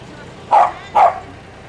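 A dog gives two short barks about half a second apart, moderately close, with a faint background hum near a level crossing on a main railway line.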